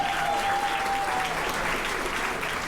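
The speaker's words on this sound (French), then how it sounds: "Belle main d'applaudissements pour le bon déjeuner ce matin." Audience applause for a breakfast at a community morning gathering, a steady, dense wash of clapping from a crowd, loud and continuous with no pauses.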